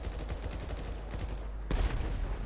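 FAMAS rifle gunfire in GTA V online, dense rapid bursts of shots at moderate level with a sharper, louder blast near the end, no voices.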